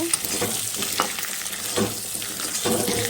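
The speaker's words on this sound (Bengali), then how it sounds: "লাল লাল করে ডিমগুলি ভেজে তুলে নেব" Eggs frying in hot oil, giving a continuous close sizzle with occasional spatula scrapes and stirs, no talking.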